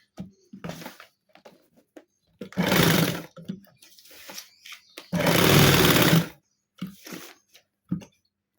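Sewing machine stitching the edge of an organza tissue neck design, heard in two loud continuous bursts of about a second each, separated by quieter handling and fabric sounds.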